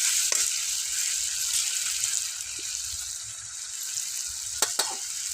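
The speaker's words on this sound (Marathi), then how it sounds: "थोडं परतून घेते चांगलं तेलामध्ये." Onion and tomato fry in oil with turmeric on a wood-fired clay stove, making a dense, bright sizzle that holds steady throughout. A couple of sharp utensil clinks come near the end, and no one speaks.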